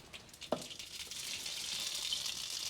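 Mustard seeds crackling and sizzling in heated oil in a home kitchen pan, a steady bright hiss with a short pop near the start, continuing alone without talk.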